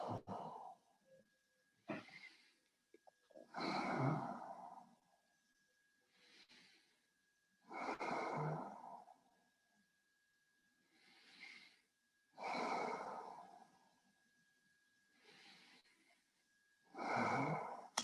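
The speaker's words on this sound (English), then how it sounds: "let the breath flow now for a few lovely rounds of free flow breathing" Slow, deep yoga breaths flow in and out in unhurried rounds, each long exhale or inhale rising and fading with quiet pauses between, close and intimate with no talking.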